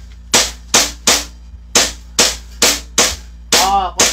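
An SRC Falcon airsoft gun fires eight sharp, close pops at an irregular pace over a steady low background hum.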